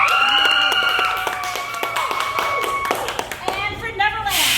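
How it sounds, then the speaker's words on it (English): A small audience claps at the Splendid Teapot Race 2020 at the Makerstation, scattered hand claps mixed with excited, high-pitched children's voices and cheering. "let me know by sound of applause"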